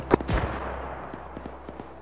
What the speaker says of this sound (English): we're getting shot at, comrade